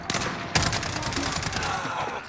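Sustained automatic gunfire in Modern Warfare rattles loud and close in a continuous fusillade, with a sharp heavier shot standing out early in the burst.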